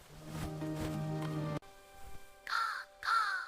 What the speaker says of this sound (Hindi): कौवा खुश हुआ और जोर से कां कां किया।